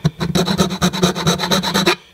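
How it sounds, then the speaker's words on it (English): A round rat tail file rasps back and forth in quick, even strokes, deburring a tight opening cut into a GoPro housing; about a dozen close, scratchy passes run steadily before stopping. "This is a rat tail file. It's round. This is actually very useful for getting rid of burrs"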